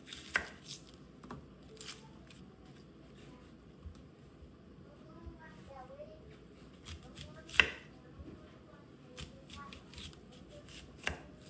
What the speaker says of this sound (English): Okay, so now we're going to cut up our onion and we're going to put it in our ground beef.